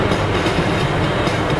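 A passenger train rolls along its rails on a trip toward Orlando, Florida, giving a loud, steady rumble with rhythmic clickety-clack from the wheels, heard close from inside and with no talking.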